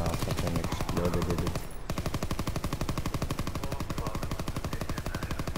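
Rapid, steady automatic gunfire rattles through a video game battle, dense and loud, broken by a brief gap near the two-second mark before the bursts resume unbroken.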